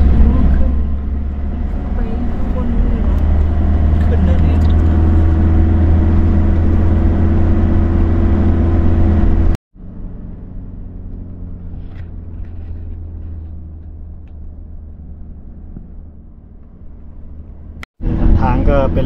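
A car engine labors in low gear up a steep, narrow mountain road toward the wind turbine fields of Khao Kho, Phetchabun. It gives a loud, steady drone heard from inside the vehicle, broken by two abrupt cuts.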